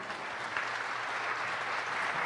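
An audience at a talk on holistic health applauds, a fairly quiet, even wash of clapping from many hands that holds steady without any speech.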